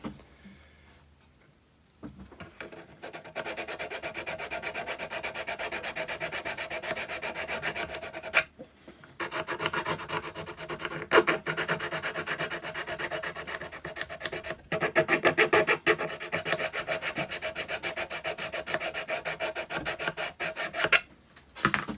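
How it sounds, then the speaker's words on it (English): Repeated rasping strokes of a file scraping across wood on a model French chateau build, close and steady, with short pauses between bursts of rhythmic filing. "Probably do with a file for this bit."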